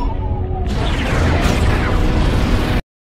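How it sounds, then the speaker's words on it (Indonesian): A loud, sustained energy-blast explosion from the film Final Fantasy: The Spirits Within erupts after a brief lead-in, a dense roaring burst that rumbles on for about two seconds before cutting off abruptly. "Tembakan kedua dari JUS pun kembali menghantam kawah tersebut."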